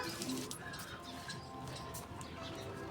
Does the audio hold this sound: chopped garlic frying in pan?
no